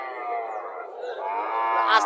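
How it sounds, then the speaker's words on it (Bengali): A native dairy cow lets out one long, loud, close moo that rises in pitch toward the end. "দেশি গরু,"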